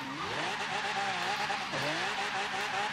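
Ford GT in Forza Horizon 3 drifting after an e-brake pull, engine note rising and falling in sweeping pitch bends with tire squeal over a steady, loud roar, swinging through a second slide midway.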